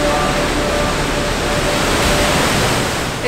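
A waterfall on a hiking trail in Jasper National Park, Alberta, Canada, roars as a loud, steady wash of rushing water, with no voices over it.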